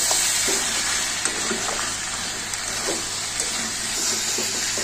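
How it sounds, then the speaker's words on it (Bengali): Mutton frying with spices for mutton kosha, a loud, dense, continuous sizzle with faint scraping from stirring throughout, close and steady with no talk. "এবার মশলাগুলো দিয়ে ভালো করে কষাতে থাকবো। বেশ অনেকক্ষণ ধরে কষাতে হবে।"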